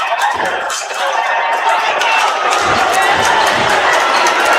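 A basketball crowd at a game day classic cheers and roars continuously, loud and dense, with scattered shouts and claps rising through the noise.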